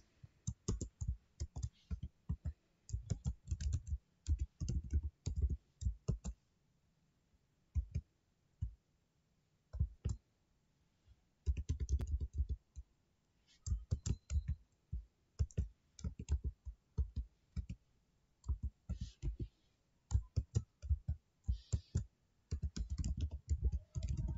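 A computer keyboard clatters as an SQL insert command is typed, with close, crisp clicks in rapid bursts separated by short pauses, continuing steadily throughout with no talk.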